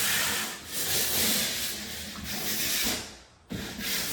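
Steady abrasive rubbing of sandpaper over primed drywall, close and continuous with slight pulses, briefly pausing near the end before resuming.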